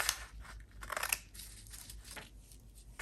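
Scissors cutting a slanted edge into paper for a crafted seed packet, heard as close, crisp snipping and crunching strokes over a little under three seconds with no talk.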